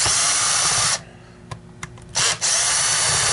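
A power drill runs loud and steady while backing screws out of a Dyson DC23 canister vacuum. It stops for about a second with a few light clicks, then whirs up again at full speed.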